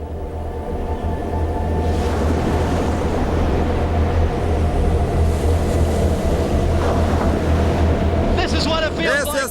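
A hurricane storm surge of sea waves about 1.8 m high floods onto land, a loud, steady roar of churning water and wind that fills the whole stretch, with a voice cutting in near the end.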